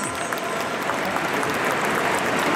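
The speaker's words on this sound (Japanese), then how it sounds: "大きな拍手でお迎えください" Steady, dense applause from a large crowd, even and continuous throughout without pauses or cheering.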